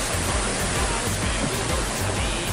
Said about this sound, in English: Look at the floods coming towards us now, all around the van.